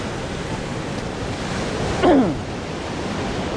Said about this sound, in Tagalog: hanggang ngayon ay ganito pa rin sa dagat. Napakalakas pa rin ang alon.